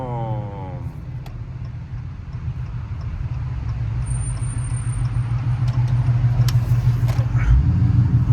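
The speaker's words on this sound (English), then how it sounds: "That's a loud car, dude." Car engine of a Dodge Charger RT roaring and rumbling steadily from inside the cabin, its low drone building louder over eight seconds with a brief squeak and clatter near the end.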